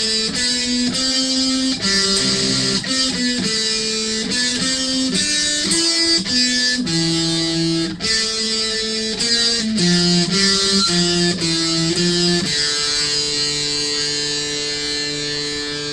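A distorted electric guitar plays a riff as a loud run of sustained notes and chords that shift every second or so, with no talking.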